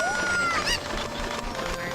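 Chickens cluck and squawk in the Ocarina of Time video game, several birds calling over a steady game soundscape, including one rising cry.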